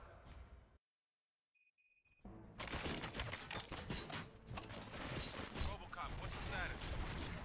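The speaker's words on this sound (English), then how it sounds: "Gunshots?" Gunfire in RoboCop: Rogue City: a brief hush with faint mechanical ticks, then dense, continuous bursts of rapid shots fill the rest, with voices mixed in.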